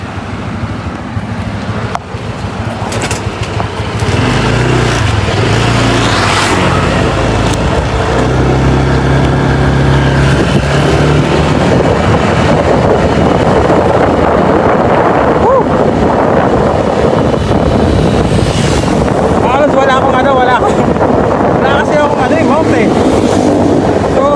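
A new white Honda Click 160 scooter on a test ride through Bayambang: a constant engine hum under heavy wind rush that builds as it speeds up, with a voice speaking over it at times.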